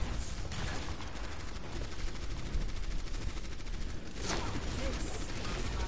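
Sniper shot in the Overwatch match, a single crack at about four seconds within dense competitive gameplay audio of constant firing and ability effects, with faint voices underneath.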